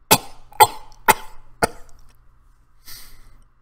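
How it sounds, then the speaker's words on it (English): A short coughing fit: four harsh coughs in quick succession, then a pause and a softer breathy exhale, close and clear with no talking. "the sick man crawled up to fight off another coughing fit"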